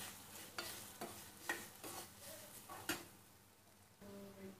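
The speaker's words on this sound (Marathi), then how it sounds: "आपलं तूप हे व्यवस्थित गरम झालं की आपण याच्यामध्ये 1 वाटी खोबरं टाकून घेऊ आणि हे परतून घेऊया" Grated coconut is stirred in hot ghee in a pan, with soft sizzling under a series of distinct spatula scrapes and knocks at an uneven, unhurried pace, close and fairly quiet.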